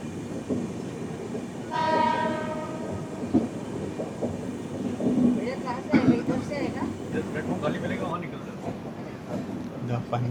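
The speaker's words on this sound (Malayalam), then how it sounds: "പൻവേലിലേക്ക് ഒരു EMU വരുന്നു." An EMU suburban train heading toward Panvel approaches with a clear horn blast early on, followed by rolling rail clatter and rumble under background voices.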